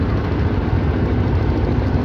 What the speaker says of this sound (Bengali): নৌকা আমাদের সামনে দিয়ে ক্রস করে চলে যাচ্ছে।